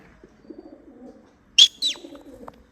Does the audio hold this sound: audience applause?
no